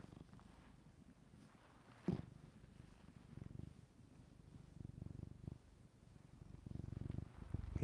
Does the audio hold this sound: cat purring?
yes